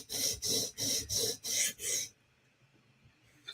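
Six even, rhythmic rasping strokes of a blade on a sharpening stone work the edge of a PM2 tanto knife, close and clear, then stop, leaving near silence.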